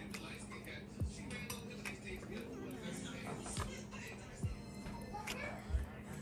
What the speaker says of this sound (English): I'm gonna dish out some in the bowl here so you can see what it looks like